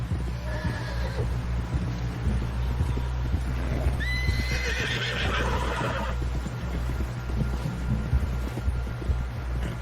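A horse neighs loudly amid steady clip-clop hoofbeats of galloping in Red Dead Redemption 2, over a low constant hum.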